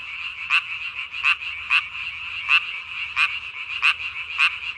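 A Korean tree frog calling at night, its inflated vocal sac pulsing out loud, close, buzzy croaks at a steady rhythm, with a continuous chorus of other frogs droning behind, no voices.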